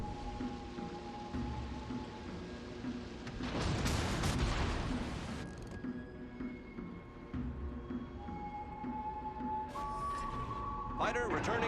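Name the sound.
battleship main gun salvo, USS Nevada, World of Warships Legends video game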